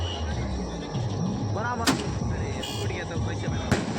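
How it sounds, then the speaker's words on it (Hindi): Firecrackers go off at an engagement celebration, two sharp, loud bangs a couple of seconds apart over a background of crowd noise. "यहाँ पे पटाखे छूट रहे हैं।"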